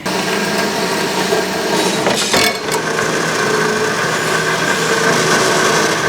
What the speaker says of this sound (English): now I get to splice or cut this, section it, and weld it back together